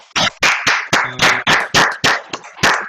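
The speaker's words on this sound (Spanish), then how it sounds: "que se merece un aplauso" Audience applause for the speaker at the end of a talk on the gardens of El Retiro de Churriana, heard as loud, close, distinct claps in a steady rhythm of about a dozen sharp beats, with no talk over them.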